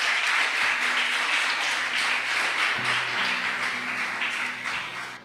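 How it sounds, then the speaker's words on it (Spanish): A church congregation applauds the Lord in a loud, sustained burst of clapping, dense and even throughout, with soft sustained keyboard tones underneath. "Dale ese aplauso fuerte al Señor."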